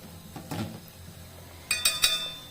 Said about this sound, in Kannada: ಅದೇ ಮಜ್ಜಿಗೆಗೆ ಇದನ್ನೀಗ ಹಾಕಿಕೊಳ್ಳುವ. ಹಾಕಿ ಚೆನ್ನಾಗಿ ಮಿಕ್ಸ್ ಮಾಡುವ.